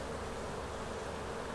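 Honey bees hum around an open hive nucleus box, a dense continuous buzz filling the air at close range with no break or speech.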